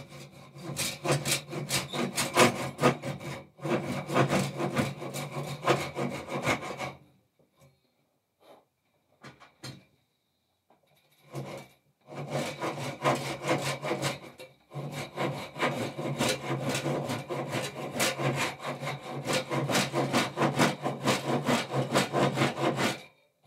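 Hand saw cutting wood for a custom guitar body in a luthier's workshop, steady rhythmic rasping strokes close up, pausing midway for several seconds with scattered small knocks before resuming the same back-and-forth sawing.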